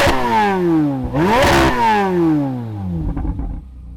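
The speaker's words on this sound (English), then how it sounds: "then you can start revving it up" A sports car engine revs hard before a drag race between a Chevrolet Corvette Z06 and a Ford GT, climbing and dropping in two loud throttle blips, then settling to a rough, clattering idle.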